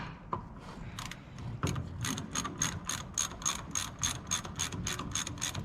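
A ratchet tightening a bolt while servicing a dozer, giving close, sharp repeated clicks in an even rhythm after a few initial turns.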